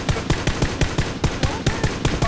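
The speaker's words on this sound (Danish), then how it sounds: "Der er skud overalt." Rapid automatic gunfire in the battle royale game PUBG, a steady burst of roughly a dozen loud, sharp shots at near-even spacing over about two seconds, close and dominant with no talking.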